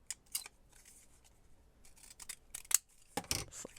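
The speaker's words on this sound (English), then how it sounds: "should we cut it a little smaller" Scissors trim a piece smaller for a handmade junk journal, giving a few quiet, separate snips and rustles of material with no talking.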